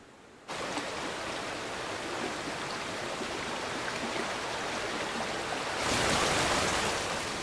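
Broad, constant rush of flowing water from the Noisiel waterfall, steady and fairly soft, swelling slightly louder near the end, with no voices.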